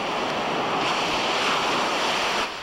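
Storm waves pound the coast at Gloucester, Massachusetts, during a December storm, a loud, continuous roaring wash of surf mixed with heavy wind buffeting the microphone.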